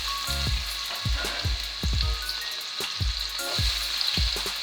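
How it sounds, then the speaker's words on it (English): Onions and scallions fry in oil with a steady, loud sizzle, broken by repeated scraping thuds of stirring at an uneven rhythm; no voices. "So let's get that frying."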